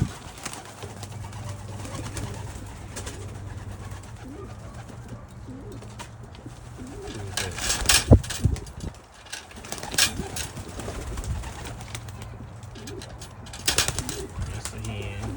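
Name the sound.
pigeons cooing in a loft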